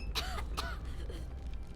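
A game character in Mafia: The Old Country coughing, two quick rough coughs close together followed by faint raspy breathing, quiet overall.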